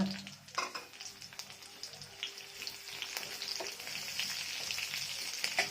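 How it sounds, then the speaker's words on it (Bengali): Cumin and green chillies hit a hot wok and fry with a bright crackling sizzle that swells and settles into a steady hiss, scattered pops and a brief scrape, heard close with no talking. "কড়াটা তেতে গেছে, এতে দেবো জিরে, কাঁচা লঙ্কা"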